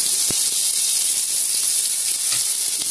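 Tomato and onion hitting a hot pan while cooking a spicy sea crab curry, giving a steady, loud, bright sizzle with small crackling pops throughout.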